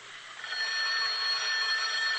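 An old-fashioned telephone bell rings continuously in an old time radio drama set in a darkened library, a bright sustained electric trill that rises in quickly and holds, heard alone.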